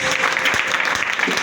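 A church congregation claps in a dense, steady round of applause at close range, with faint voices mixed in.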